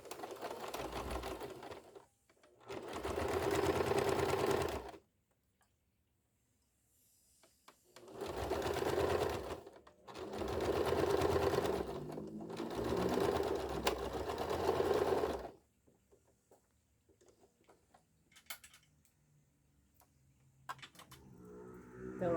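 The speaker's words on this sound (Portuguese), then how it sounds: "você ajeita bem certinho e vamos passar a costurinha" A sewing machine stitches a synthetic leather wallet in several runs of steady, close, loud whirring, broken by pauses, with faint handling noises in the quiet gaps.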